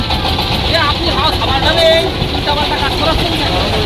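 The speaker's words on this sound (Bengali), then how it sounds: "আমাদের ট্রলারটি ছেড়ে দিচ্ছে।" A trawler's engine rumbles steadily and loudly as the boat sets off from Khulna toward Karamjal, a constant low drone with people talking over it.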